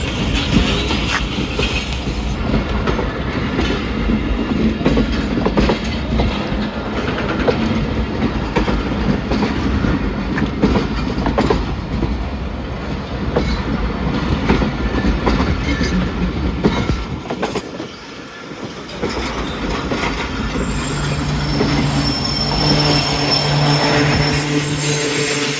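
The Rehman Baba Express passenger train on its run from Attock City to Rawalpindi in Pakistan, heard loud and close as it moves along the rails with rhythmic clickety-clack, rumbling wheels and occasional squeals, briefly easing before building again.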